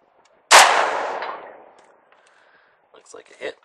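A single loud Saiga 5.45x39 rifle shot cracks out, with a reverberating tail rolling off over about a second, then faint clicks and brief voices afterward.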